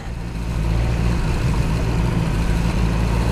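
A 2021 BMW S1000R straight-four motorcycle engine lugs along below 2,000 revs in town, a loud, steady low rumble that rises slightly after the first half second and holds evenly.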